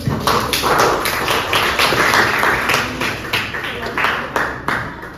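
A group claps hands in a classroom presentation, a close, uneven patter of sharp slaps with some taps and thumps mixed in, and voices murmuring underneath.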